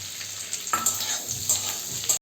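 Tomatoes and green chillies frying in a pan for egg chilli, a steady close sizzle with scraping stirring strokes now and then, ending in a brief cut to silence.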